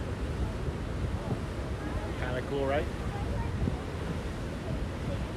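Niagara Falls heard at water level on the north side, a constant loud roaring wash of falling water with wind buffeting the microphone and a person speaking briefly over it.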